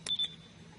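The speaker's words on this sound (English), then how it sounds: "If you do this correctly, the button will make a high-pitched beeping sound like this." Two short high-pitched electronic beeps from a correctly pressed button in Battlefield 4, close and clear, the second slightly longer, followed by a faint low hum.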